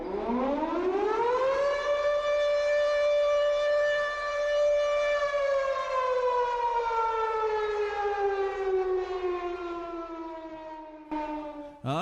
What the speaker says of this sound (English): And here comes the siren.